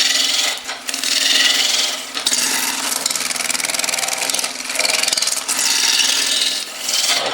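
A hand tool cuts and shapes a solid wood cone on a lathe, giving a harsh continuous scraping rasp that swells and briefly breaks in repeated strokes, close and loud.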